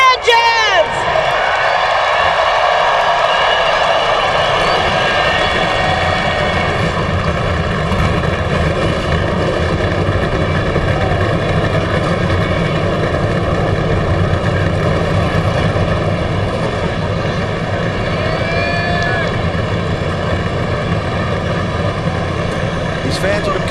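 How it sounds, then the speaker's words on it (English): Many NASCAR stock car engines fire up and roar together at Bristol Motor Speedway during the 2004 Sharpie 500, a loud, sustained wall of engine noise with a crowd beneath it. "Gentlemen, start your engines!"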